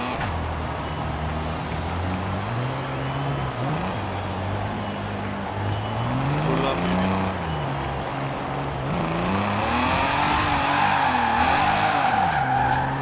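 BMW M3 sliding sideways in Forza Horizon 4, with continuous loud tire squeal over a revving engine whose pitch sweeps up and down as the throttle is worked through long drifts.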